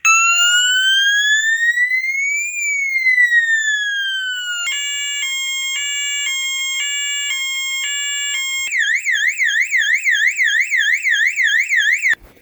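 Several fire alarm siren tones play in turn, loud and alone: a slow rising and falling sweep, then a steady stepped electronic pattern, then a fast warbling whoop, cutting off sharply at the end.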